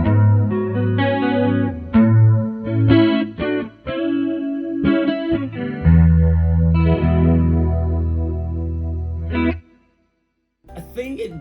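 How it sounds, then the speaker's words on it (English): A clean electric guitar through a Joyo amp plays chords and single notes with a shimmering jazz-chorus-style effect and a spacious reverb tail, ending in a short pause before another strum. "I'm gonna turn up the chorus, and at the same time I'm gonna dial in some reverb"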